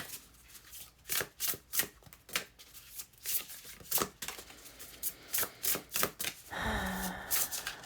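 A deck of cards is shuffled by hand in a close, quiet room: a run of soft, papery riffling bursts in an uneven rhythm, then a brief shift as a card is drawn, with no voices.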